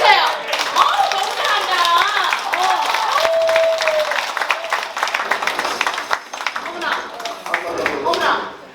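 Audience applause at a commemorative literary event, steady clapping lasting several seconds alongside voices, cheers and talk from the stage.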